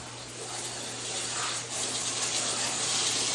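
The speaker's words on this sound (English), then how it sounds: "Now I have to hose a little more." A garden hose sprays water to clean out an emptied hot tub, a steady hissing gush close by that shifts slightly as the stream moves across the surface.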